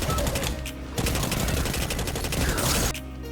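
A 720 auto rifle fires in rapid sustained bursts in the shooter game Destiny 2, a loud, dense rattle of shots with short breaks between bursts.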